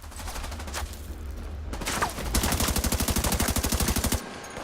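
Machine gun fire in The Division 2: a close, loud, rapid burst of evenly spaced shots builds over several seconds after earlier scattered gunfire, with no talking.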